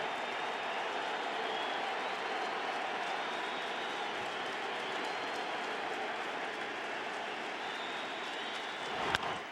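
Large stadium crowd at a Yankees baseball playoff game against the Angels, a broad roar of cheering that holds steady throughout, with a sharp crack near the end.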